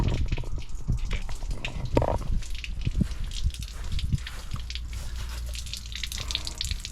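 Water pouring out of a caravan's water tank outlet, a continuous splashing, gurgling flow with drips, close and steady the whole time.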